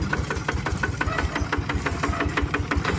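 A walk-behind rice-field tractor of the bird (nok) brand idles under test at a dealer's shop in Kalasin, Thailand, its single-cylinder engine thumping in a steady, fast knock with mechanical clatter and vibration, close and continuous.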